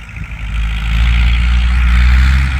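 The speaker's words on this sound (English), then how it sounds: "So again, a 74 Bombardier Muskeg Tractor." The engine of a restored 1974 Bombardier Muskeg tractor drones with a deep, loud, steady rumble on uneven field ground, growing slightly heavier as it runs close by.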